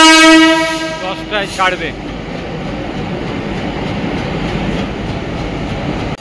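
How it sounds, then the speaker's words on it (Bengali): A Duttapukur local train pulls into a station in West Bengal, its loud horn sounding first, then a steady rumble and rattle of the carriages, with brief station talk near the start. "এই দত্তপুকুর লোকাল ঢুকছে"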